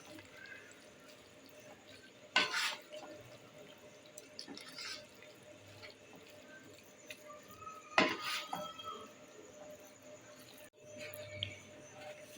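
Spaghetti and meatballs being mixed in a pan, with intermittent clinks of a utensil against the pan and soft wet stirring at moderate distance; faint background room noise fills the quieter stretches.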